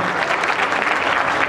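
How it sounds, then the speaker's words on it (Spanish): An audience at a boxing training event gives a loud, dense burst of applause, a steady close clapping that fills the whole short moment. "Aplauso para él, muchas gracias, fuerte aplauso."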